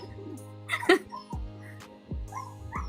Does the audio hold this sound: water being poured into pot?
no